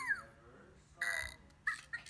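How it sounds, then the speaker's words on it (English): A finger monkey toy lets out a few short, croaky burps with brief pauses between them, fairly quiet and close. "So this is how we make a burp."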